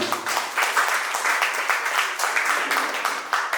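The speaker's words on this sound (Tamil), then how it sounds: "அவர்களுக்கு நம்ம எல்லாரும் கைத்தட்டு கொடுக்குறாங்க" Audience at a ceremony presenting Braille books to blind people breaking into sustained applause, dense and loud crowd clapping that holds steady throughout with no talk over it.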